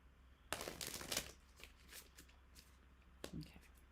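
Tarot cards riffle and slide in a short close burst, followed by a quieter second flutter of card shuffling a few moments later, with a quiet room behind.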